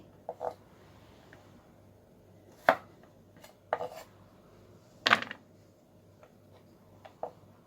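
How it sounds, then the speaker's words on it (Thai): A knife chops carrot and daikon radish for kimchi, with sparse, irregular taps and sharper thuds on a cutting board, close but fairly quiet, over a low background hum and with no speech. "เดี๋ยวเราจะหั่นผักนี้รอไปเรื่อยๆ"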